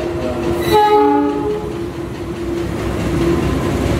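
A loud train rumbles slowly past nearby at Manggarai Station amid construction, a horn sounding briefly, with a steady rolling clatter of wheels continuing afterward.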